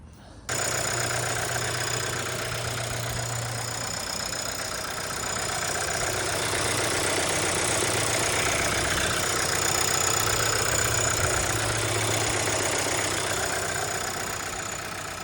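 A Volkswagen Golf VII Blue Motion Highline with a 150 hp engine runs steadily and fairly loud, a continuous even drone with a faint knock-like texture and no talk over it.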